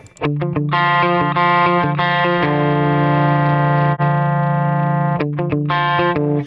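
Electric guitar runs through a Misha X amp plugin with the mix turned fully up, playing distorted, effect-heavy chords: sustained notes and short chugging stabs, loud and upfront, with no voices.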